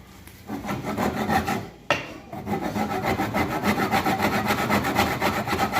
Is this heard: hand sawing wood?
yes